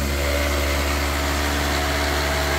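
Toyota Avanza engine running steadily during an engine cleaning treatment, a continuous loud idle-to-rev drone with a strong low hum and no speech.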